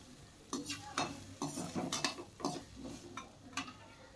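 Potatoes frying in a pan over a medium flame for sago pulao, with a low steady sizzle under repeated sharp clinks and scrapes of a spatula stirring against the pan.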